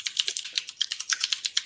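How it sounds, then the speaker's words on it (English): Rapid, close clicking of typing on a computer keyboard during an online developer meeting, a steady burst of crisp keystrokes with no talk. "Let's see if I can type something out."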